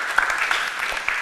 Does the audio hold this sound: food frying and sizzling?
no